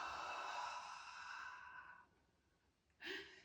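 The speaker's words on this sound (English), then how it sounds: "Exhale down." During a breathing exercise a long, soft exhale sighs out for about two seconds. After a short pause a brief, sharper breath follows. The sound is close and quiet, with no talking over it.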